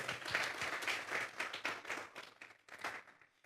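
A church congregation claps together in a short burst of applause, the rhythm fairly dense at first and then thinning and fading out toward the end, heard at a moderate distance.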